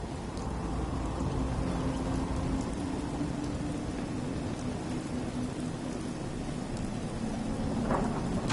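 Steady rain from a video game's weather fills the whole stretch, close and continuous, with a low rumble of thunder running beneath it and a brief brighter crack near the end.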